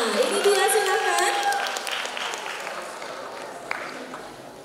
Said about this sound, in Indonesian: kita langsung saja berikan tepuk tangan yang meriah untuk Kak Nesa.